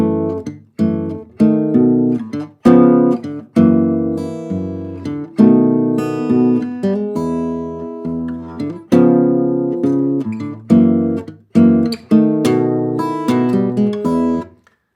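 A blues turnaround is played as a sequence of ringing chords built on secondary dominants, struck one after another with clear attacks and decaying sustain, with no voices.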